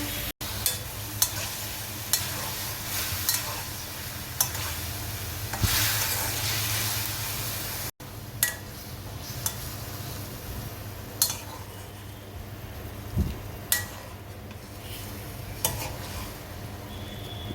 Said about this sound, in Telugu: మష్రూమ్ పచ్చివాసన పోయే వరకు 5 to 10 minutes పాటు వీటిని ఫ్రై చేసుకోవాలి.